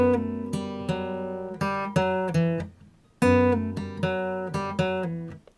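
An unaccompanied guitar plays the ending melody of a song cover, thumb-picked single notes ringing in a clear, close phrase that repeats twice with a short pause between, alone without speech.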